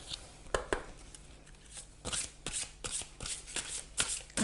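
Guidance cards being shuffled by hand in a series of crisp riffling bursts and soft flicks, close and fairly quiet, with no voice over them.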